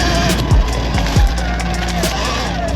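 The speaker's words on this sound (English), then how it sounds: "Gonna try to wheelie through that puddle." Surron Ultra Bee electric dirt bike wheelieing through a mud puddle outdoors, a steady motor whine with two brief surging rises and wet tire noise, fairly close and loud.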